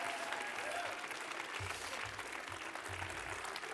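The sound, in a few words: audience applause at a theatre awards ceremony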